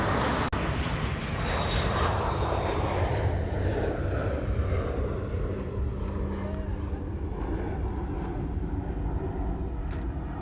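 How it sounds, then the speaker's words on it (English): A fixed-wing airplane passes at Honolulu Airport, its engine roar loud and steady for the full stretch, slowly shifting as it crosses, with broadband rumble throughout. "I want a picture of the plane crossing behind the F-22"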